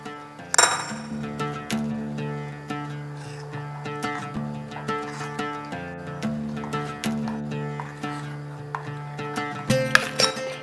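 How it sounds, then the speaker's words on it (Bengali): A moong dal mixture seasoned with fennel powder, garam masala and ginger paste is whisked in a bowl, giving a steady run of light, rhythmic clinks against the bowl beneath continuous tonal background music. "এরপরে পুরো জিনিসটাকে একটু ফেটিয়ে ফেটিয়ে মিশিয়ে নেব"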